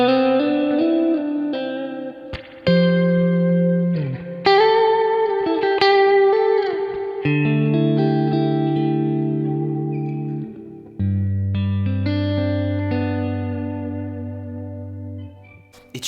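Clean electric guitar, a Stratocaster through a Kemper profile of a '65 Twin Reverb amp, plays chords and single notes with a bright, shimmering tone and lush reverb tails, ringing out alone.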